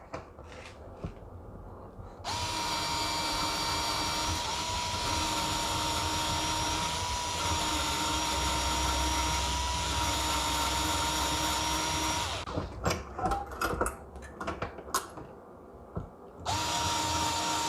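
An electric screwdriver drives a case cutter trimming cartridge cases, giving a steady loud whirring drone that stops briefly near the start and again toward the end, with clicks and handling noise between runs.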